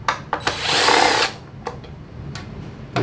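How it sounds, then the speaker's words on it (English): A power drill fitted with a Phillips bit spins out screws from a plastic cover on a TRS pump, giving a few short whirring bursts and one longer sustained run, close and loud with no talk. "Just using a Phillips drill bit right here."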